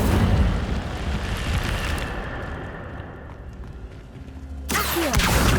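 A fire spell cast in Hogwarts Legacy: a loud, roaring burst that rumbles for several seconds, fades, then flares up again sharply near the end with no voices.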